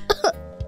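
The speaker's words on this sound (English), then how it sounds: "we can bend our arms like this and catch a cough or a sneeze instead of letting germs fly free" A short cough, or two quick coughs, caught in the crook of a bent arm sounds muffled and close, followed by a faint breath.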